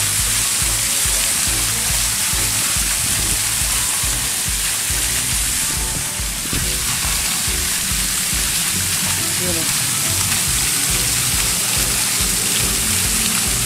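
Water splashing steadily from a fountain outside a hotel in Indonesia, a loud continuous broadband rush with low rumble throughout, with a voice briefly audible partway.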